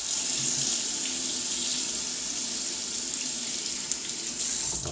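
Tap water runs steadily and loudly for several seconds to wet a shaving brush and soap lather for a wet shave with Tabac shave soap, an even hiss with no talk.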